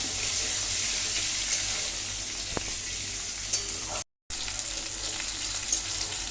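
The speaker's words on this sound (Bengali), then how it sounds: "এবারে দেবো এতে আমি টুকরো করে রাখা আলু, দিয়ে এটাকে আমি ভালো করে ভাজবো" Cut potato pieces fry in oil in a pan for a Bengali bottle gourd and shrimp dish, a steady close sizzle throughout with one brief dropout near the end.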